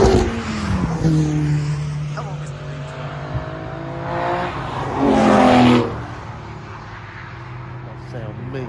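A race car engine roars past, rising in pitch and loudness then fading, with a second car swelling by; someone talks briefly over it.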